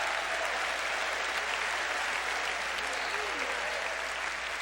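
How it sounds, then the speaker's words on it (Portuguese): Congregation applauding inside a church, a dense steady wash of many hands clapping at even loudness throughout, with no break. "Você pode aplaudir, engrandecer, enaltecer"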